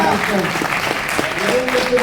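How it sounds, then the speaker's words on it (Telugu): Audience clapping at a leadership speech event, a steady dense patter of many hands lasting about two seconds, with voices and cheering mixed in. "ఒకసారి క్లాప్స్ కూడా చూపిస్తారా"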